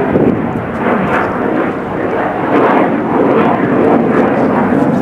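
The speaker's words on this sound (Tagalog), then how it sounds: "Ingay na aeroplano" A fixed-wing airplane passes overhead above a vegetable garden plot, a loud, steady broadband roar that swells slightly and holds for several seconds with no voices.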